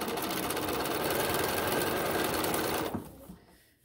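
A BERNINA sewing machine fitted with foot #23 stitches tiny piping at a fast, steady mechanical whir, then stops and the sound trails off near the end.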